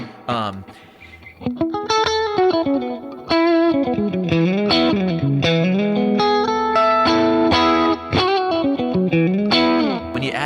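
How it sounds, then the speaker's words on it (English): Electric guitar played through a Tone Master Pro's digital Deluxe Reverb amp model, bright, lively chords and single notes with reverb, loud and continuous with no talk. "this is the best deluxe reverb digital representation I have found anywhere"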